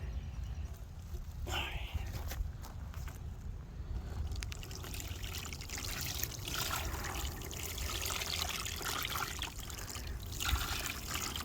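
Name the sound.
pouring sugar water into feeder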